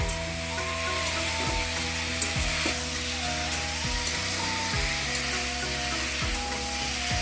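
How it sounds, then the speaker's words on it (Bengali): Jackfruit and paneer curry sautéing in a pan produces a loud, steady sizzle with repeated stirring scrapes, alone and close. "এবার রান্নাটাকে আমি ভালো করে কষাবো।"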